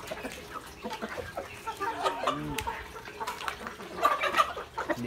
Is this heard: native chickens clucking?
yes